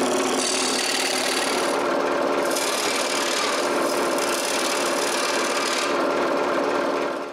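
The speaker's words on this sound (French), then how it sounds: "j'utilise la scie à chantourner pour les découper" Scroll saw cutting wooden pieces for a Raspberry Pi computer case in a woodshop, a steady, loud, continuous buzzing saw noise with rasping texture running throughout, brief dips in the high hiss, no talk.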